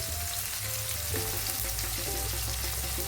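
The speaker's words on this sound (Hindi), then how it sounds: "टमाटो को सॉफ्ट करके भूनना है" Chopped tomatoes fry with salt in hot oil as the base for a prawn masala, a steady, close, dense sizzle with faint clinks and no talk.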